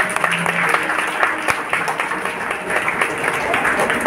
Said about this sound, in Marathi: या सर्व कलाकारांसाठी एकदा जोरदार टाळ्या होऊ द्या